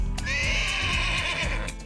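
A horse gives one loud, close whinny that holds steady before trailing off, with a few hoof clops underneath and no talking.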